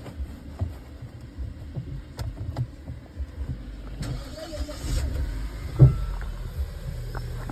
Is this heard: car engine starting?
yes